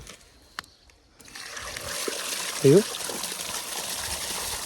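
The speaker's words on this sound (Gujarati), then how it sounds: "તો આપણે આ વાલને ચાલુ કરશું એટલે પાણી આવશે" Irrigation water starts flowing from an opened valve on a farm: after a quiet moment, a steady rushing, trickling flow builds and continues, with a brief spoken word over it.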